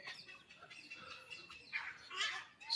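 Birds call from inside a zoo aviary at a national park, a mix of faint, distant chirps and squawks that grow a little louder and more frequent toward the end.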